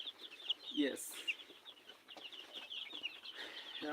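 Chickens cluck and chirp on a farm in Kenya, a busy, steady flock sound at moderate distance with occasional louder calls and faint voices.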